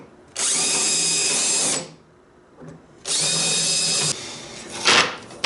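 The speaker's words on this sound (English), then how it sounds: "drill some holes, add some bedding compound" A power drill boring holes for bolts in a wooden boat, with two close, loud sustained whirring runs separated by a short pause and a brief clunk, ending with a scraping knock.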